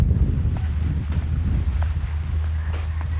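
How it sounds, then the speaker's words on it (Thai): Wind blows constantly outdoors at Nong Hak pond, a tourist spot in Non Hom village, rumbling low and steadily against the microphone with faint rustling on top and no talk. "คือลมพัดตลอดเลย"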